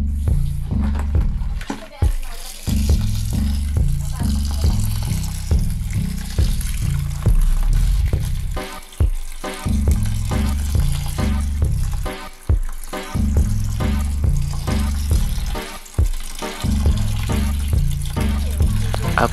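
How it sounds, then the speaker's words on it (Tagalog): Water pours from a tap into a container holding half a kilo of mung beans, a steady loud splashing stream broken by short pauses, with background music or noise throughout. "Ang una pong gagawin lalagyan po natin ng tubig."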